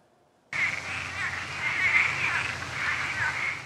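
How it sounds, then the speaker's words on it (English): Thousands of invasive Cuban tree frogs croak in a Fort Myers backyard. The dense chorus starts abruptly and holds steady and loud, with rough, rasping calls overlapping continuously. "It's a hard sound to ignore as thousands of tree frogs from this backyard on Pittsburgh Boulevard in Fort Myers are croaking day and night"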